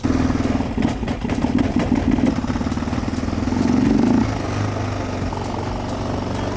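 Yamaha 660R quad engine running nearby, a loud steady rumbling motor with a slight rise in revs before settling back to an even idle.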